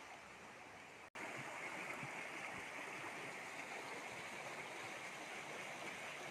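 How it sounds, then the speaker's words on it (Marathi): Rainwater rushes through an overflowing street drain after hours of heavy rain, a steady faint broadband gush that cuts out briefly near the start and then runs on evenly. "गटारी फुल भरून वाहत आहे. पाण्याचा प्रवाह इतका फुल आहे"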